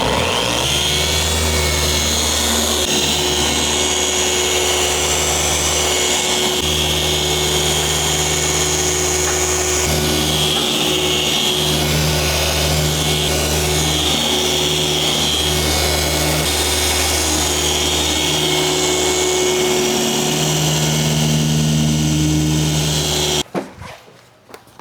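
A Rupes dual-action polisher buffs damaged black car paint with a steady, loud motor drone and whine that holds almost unbroken for over twenty seconds, then cuts off abruptly at the end.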